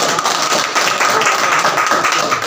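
Audience clapping at a Saraiki-language rally or gathering, a dense, steady wash of many hands under loud amplified chanting that carries on for the whole stretch.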